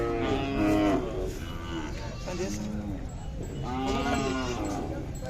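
Khillar dairy cows at a busy cattle market in Sangola, several loud drawn-out moos from nearby animals over a constant crowd murmur with people talking throughout.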